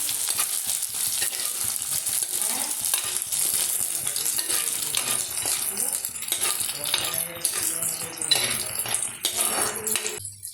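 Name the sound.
sautéing green chillies and curry leaves in a pan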